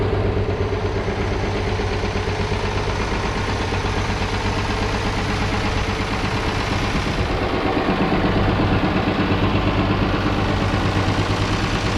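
An International 986 tractor engine runs steadily at close range, a deep, throbbing diesel drone that holds even, then swells slightly as the machine is driven out.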